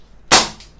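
An Umarex Beretta M92FS CO2 BB pistol fires a single sharp, loud crack that decays quickly, followed by a brief mechanical click, heard close and alone.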